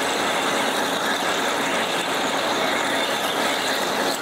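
A metal lathe turns a top coupling at roughly 180 RPM, giving a steady, dense machining whir with a faint squealing edge that holds evenly throughout, close by and with no speech.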